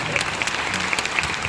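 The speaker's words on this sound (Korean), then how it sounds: "박수 한번 주십시오" An audience at a Korean book launch applauds, a steady wash of many hands clapping at once, loud and continuous for a short burst.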